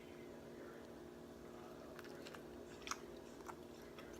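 Soft biting and chewing on a slow cooker chicken taco in a whole wheat flour tortilla with fat-free cheese, cilantro and lime, faint crunchy bites near the end over a steady background hum.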